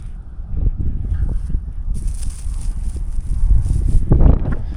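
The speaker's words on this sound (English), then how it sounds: "This wind is helping a ton." November wind gusts across an open hay field while a Fendt 714 tractor bales. Blustery rumbling buffets the microphone throughout, with a brighter rushing hiss building in the second half.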